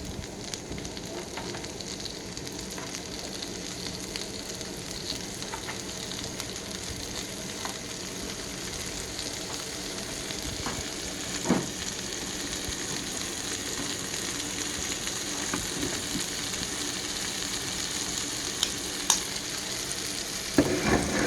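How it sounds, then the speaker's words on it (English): Store-bought pre-washed vegetables fry steadily in leftover steak oil and grease on a wagyu cook, a continuous close sizzle with a few faint pops and clicks throughout, no voices. "Just lay them out on the steak oil and grease. Just let them cook on their own."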